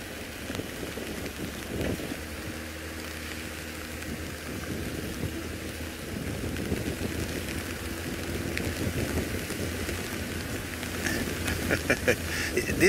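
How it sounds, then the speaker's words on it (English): Steady rain falling outdoors in the African bush, a continuous broadband hiss with scattered drop impacts that grows slightly denser and louder toward the end, with no talk over it. "This rain, it sounds so"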